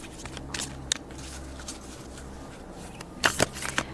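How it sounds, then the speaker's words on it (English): Papery riffling bursts of cards being shuffled, a few soft flurries early on and a louder, quicker run near the end, in a quiet room. "I am going to shuffle this deck"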